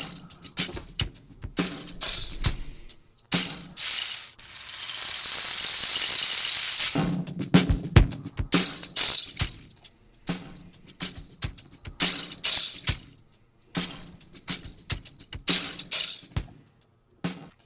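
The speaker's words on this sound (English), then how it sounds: "the amplitude of sound 2 is imposed on the timbre or the spectrum of sound 1" A convolution effect imposes one sound's amplitude onto another, producing bursts of clattering, glassy, squealing texture with a sustained hissing wash in the middle, then choppy fragments trailing off into silence.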